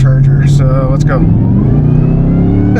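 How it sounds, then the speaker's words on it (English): A Camaro ZL1 with a Rotofab intake makes a wide-open-throttle pull, its loud engine roaring close by with a rising supercharger whine, while a voice briefly exclaims at the start. "I'm gonna go ahead and do a wide open throttle pull here to see if we can hear the supercharger"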